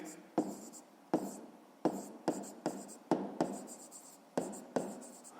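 Pen writing a math solution on paper in a series of quick scratchy strokes, about a dozen short bursts in uneven rhythm, close and fairly quiet.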